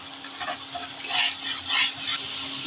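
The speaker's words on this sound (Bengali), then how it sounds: "এবার আমি আদা পেঁয়াজটা একসাথে একটু কষিয়ে নেব" Ginger paste and onion are stirred and fried together in a pan, giving a soft, steady sizzle with scraping swells that rise and fall as the spatula moves, close by and with no talking.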